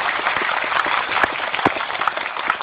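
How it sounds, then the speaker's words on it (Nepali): An audience applauds steadily to welcome a celebrated actress at a stage event, a dense continuous patter of many clapping hands with occasional sharper claps. "एकचोटि ताली बजाइदिनुहोस् ल।"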